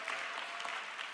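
A church congregation claps loudly to welcome the pastor at a Sunday service, a short, dense burst of many hands applauding together, steady and fairly close.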